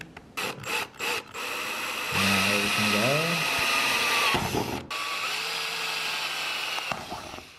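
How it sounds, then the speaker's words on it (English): A power drill bores two holes for a handle bracket on a dishwasher being wrapped in copper, whining steadily for several seconds with rising and falling pitch, preceded by a few sharp taps. "We have our 2 holes drilled here"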